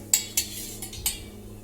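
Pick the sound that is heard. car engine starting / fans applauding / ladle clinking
ladle clinking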